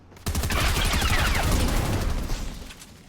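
Rapid, continuous assault rifle fire in the Fortnite Zero Build video game, loud and close, with a dense stream of shots that tails off near the end.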